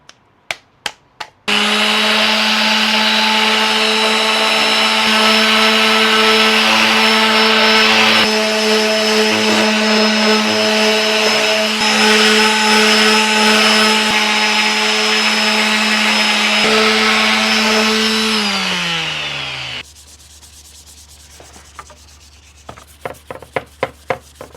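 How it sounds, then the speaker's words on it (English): Power sander working over car or bike body panels as prep before painting, a loud steady whirring grind for about fifteen seconds that winds down, with a few knocks and taps before and after. "Sanding is done."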